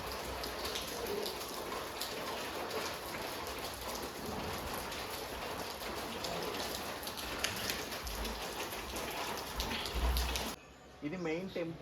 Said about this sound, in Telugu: చూడండి వాటర్ పై నుంచి పడుతున్నాయి